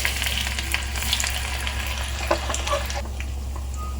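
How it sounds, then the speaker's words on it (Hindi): Onion dropped into hot oil already holding cloves, black pepper and cinnamon, giving a loud, close, crackling sizzle through the short stretch with no talking. "मैं डाल रही हूँ थोड़ा सा प्याज।"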